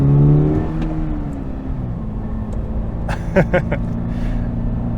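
A 2022 Toyota GR86 engine accelerates through city traffic, a steady close tonal drone that swells briefly near the start, with a few sharp clicks toward the end.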